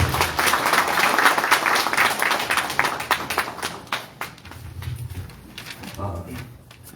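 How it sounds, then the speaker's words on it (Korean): Audience at a founding ceremony of a Yeoncheon County civic coalition opposing an industrial waste landfill gives loud, sustained applause for several seconds, fading toward the end with some murmuring voices. "뜨거운 박수로 부탁드리겠습니다."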